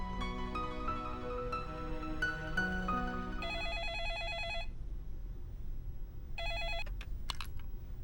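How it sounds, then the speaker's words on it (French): A telephone rings in two separate bursts of bright electronic trilling, the first longer and the second short, following a stretch of soft background music in an indoor setting. "Allez, Anou, va voir qui appelle, s'il te plaît."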